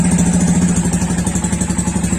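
A Honda motorcycle engine idles just after starting: a loud, close, steady low thrum with an even pulsing beat throughout.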